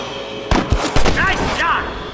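A few sharp gunshots in Red Dead Redemption, close and punchy, spaced irregularly over a second and a half, with a voice speaking between them.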